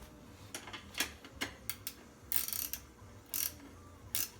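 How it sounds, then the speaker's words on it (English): Ratchet wrench turning a bicycle axle nut on a BMX bike, a series of quiet clicking strokes in uneven bursts with short pauses between, close and alone without talk. "this one has a ratchet on the other side to make your life a lot easier"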